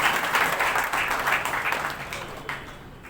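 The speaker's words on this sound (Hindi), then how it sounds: "तो उनके लिए भी एक बार जोरदार ताली बजाएं" Audience applause at a felicitation ceremony in Kurukshetra honouring a state minister and Naveen Jindal, with steady, dense clapping from a large crowd that swells early and then gradually tapers off.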